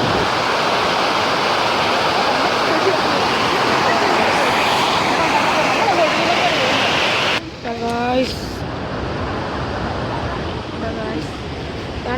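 Loud, steady roar of water rushing over the Perunthenaruvi dam and waterfall, a broad unbroken wash close by; a voice speaks briefly near the end.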